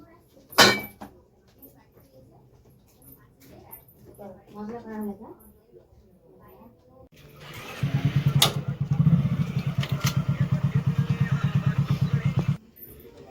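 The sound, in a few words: serviced motorcycle arriving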